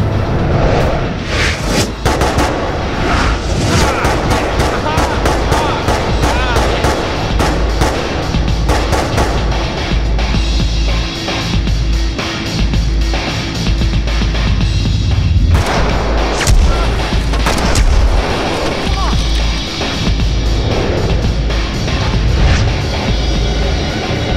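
Dense, loud gunfire and bullet impact effects in a staged action short, with bursts of shots and booming hits stacked almost continuously over a churning background.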